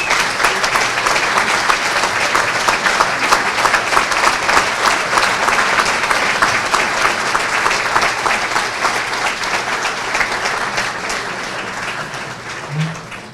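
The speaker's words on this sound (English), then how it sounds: "Round of applause." Hall of fame ceremony audience giving sustained applause for former inductees, a dense steady crowd clapping that continues for over ten seconds before slowly thinning out near the end.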